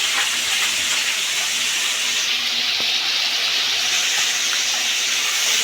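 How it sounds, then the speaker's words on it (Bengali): Onion paste sizzling in hot white oil that has been salted, a loud, steady, bright hiss that carries on without a break. "তেলটা গরম হয়ে গেছে, দিয়ে দিলাম পেঁয়াজ পেস্ট।"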